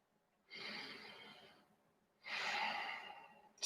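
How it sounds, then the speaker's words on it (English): Two slow, audible breaths during an Iyengar yoga session, an inhale and then an exhale, each lasting about a second. The breathing is close and soft, alone against near silence, with a brief pause between the breaths. "Inhale, exhale here."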